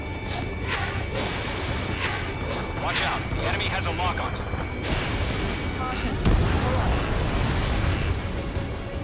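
In the Ace Combat 7 flight game, a dense barrage of gunfire and booming explosions rumbles continuously, with repeated crackling bursts under frequent radio-style voices calling out.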